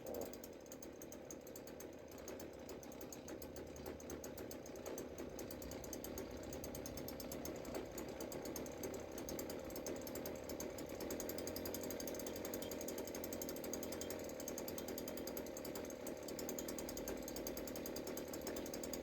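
A small two-stroke chainsaw or leaf blower engine idles roughly while its carburetor is being adjusted. A steady, buzzing drone runs throughout with a slight unevenness, close and continuous, with no talking.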